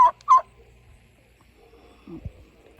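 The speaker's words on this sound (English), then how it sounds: "Our turkeys are looking like, it's almost Thanksgiving time." Farm turkeys gobble in two sharp, loud bursts at the start, followed by quieter low clucks and a soft grunt against a calm outdoor background.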